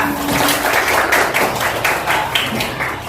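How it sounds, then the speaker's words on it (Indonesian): Elementary classroom of students clapping their hands together during a lesson, a dense, fairly close burst of many overlapping claps with irregular louder peaks, sustained for a few seconds. "Tepuk tangan dulu semuanya."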